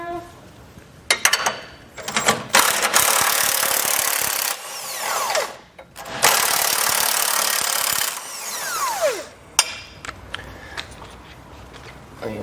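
A ratchet with a 24 mm socket backs out trailer hitch bolts during an EcoHitch hidden front-mount install, giving several loud, sustained whirring bursts with rising whines, separated by short pauses and faint clanks.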